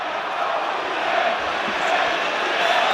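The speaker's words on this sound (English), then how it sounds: "the Spanish crowd are already celebrating as if they've scored" A Spanish football crowd at a Europa League match between Manchester United and Real Sociedad roars in celebration of a penalty award, a dense, sustained stadium din of cheering voices at steady loud level.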